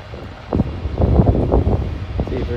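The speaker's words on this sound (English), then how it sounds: "You guys are probably hearing that wind." Gusty wind buffeting a microphone outdoors on a street beside an '87 Pontiac Grand Prix, a low rumbling roar that swells and pulses in bursts and stays loud for the whole stretch.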